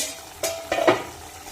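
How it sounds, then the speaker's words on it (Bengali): A lid is lifted off a pot of cooking eggplant jhal with a short metallic clink and ring, then a brief scrape and clatter over a soft background hiss. "এখন আমি ঢাকাটা উঠিয়ে দিচ্ছি।"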